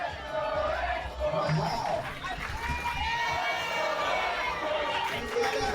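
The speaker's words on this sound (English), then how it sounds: "it sounds like the crowd wants an X-Force rally" A large crowd at a baseball game roars and cheers continuously, a broad noisy swell with voices rising and falling in the background.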